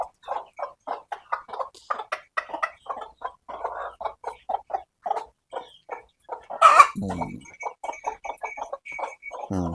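Country hens cluck steadily on a poultry farm, with a rapid run of short repeated clucks throughout and one louder squawk partway through, close by and without talk.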